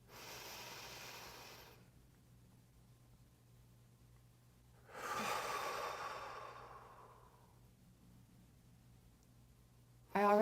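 Slow, deep breaths during a calm breathing exercise: two long, airy breaths close to the microphone, separated by a quiet pause of several seconds, with no talking.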